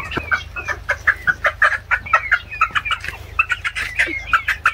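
A rooster clucks close by in a quick, repeated series of short calls, fairly loud over a low background hum.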